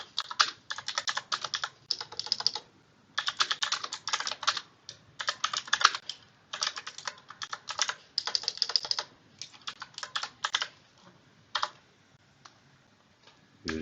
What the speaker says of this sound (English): We'll type in some text.